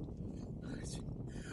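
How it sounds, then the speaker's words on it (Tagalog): Strong headwind roars across the microphone of a cyclist on the Al Wathba desert cycle track, a low, continuous buffeting rumble with gusty swells. "Walang katapos ang hangin yata"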